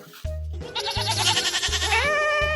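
A goat lets out a single long, loud, quavering bleat close by, rising and wavering over a low rhythmic musical beat, with no speech.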